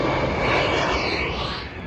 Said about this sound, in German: Ich höre wieder ein Flugzeug.